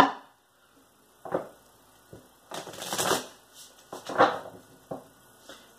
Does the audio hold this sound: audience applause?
no